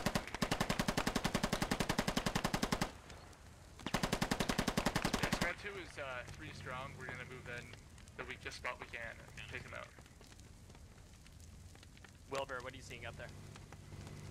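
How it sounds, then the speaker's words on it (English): Squad video game combat opens with loud, rapid bursts of automatic gunfire in two long strings separated by a brief pause. After that come softer scattered shots and radio chatter, with voices talking over the battle. "We're taking lots of shots from point now."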